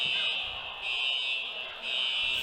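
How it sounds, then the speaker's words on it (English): A fire alarm blares in an indoor roller skating arena, with a shrill high tone pulsing in long on-off cycles, loud and steady over faint background crowd noise. "fire alarm issue happening here in the arena"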